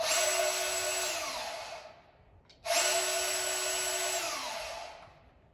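A DEWALT DCS376 cordless bandsaw runs twice in short bursts, each time spinning up to a steady high-pitched whine and winding down, with a brief quiet gap between the two runs.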